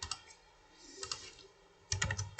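Bursts of computer keyboard typing, quick clustered keystrokes up close, pausing briefly before a denser run of clicks at the end.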